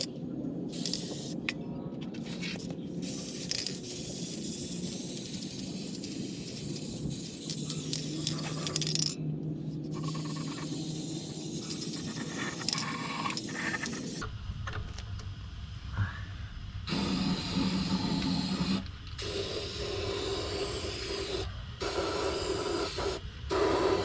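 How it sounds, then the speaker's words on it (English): Undercoating sprayed onto a truck's fuel and brake lines, a steady hissing aerosol spray running in long continuous bursts with brief pauses, close and fairly loud, with occasional light scraping and rattling between passes. "Here I am coating the fuel and brake lines."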